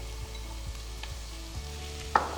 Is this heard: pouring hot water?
no